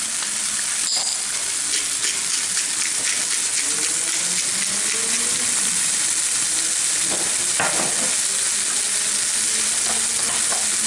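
Vegetable taco filling seasoned with salt and black pepper sizzles steadily in a hot pan while being stirred, a continuous frying hiss with scraping stir strokes throughout, close and fairly loud.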